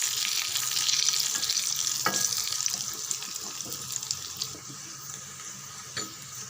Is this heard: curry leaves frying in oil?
yes